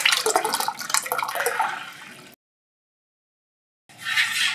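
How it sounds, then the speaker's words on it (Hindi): Water poured and stirred into thick dal in a home kitchen, a close, steady splashing and sloshing that stops abruptly, leaves a gap of silence, then resumes briefly. "अब इस दाल में हम पानी डाल के धीरे धीरे मिक्स करते जाएंगे, एक साथ पानी मत डालिए।"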